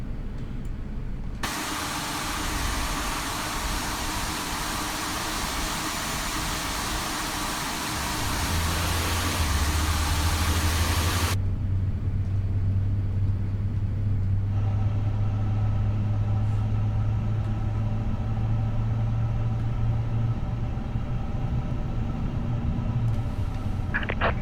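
An Airbus A350 jet engine spooling up in Microsoft Flight Simulator 2024, a steady loud whine and hiss joined by a rising low rumble that settles into a continuous drone.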